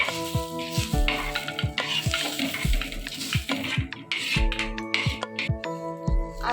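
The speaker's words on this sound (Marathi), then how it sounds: "इथे 2 कांदा फ्राय करून घेतले।" Two onions frying in a pan for a Malvani-style masvadi curry, with a steady sizzle under rhythmic metal clinks of a spoon stirring against the pan, close and busy.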